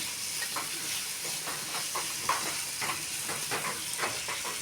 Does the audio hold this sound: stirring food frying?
yes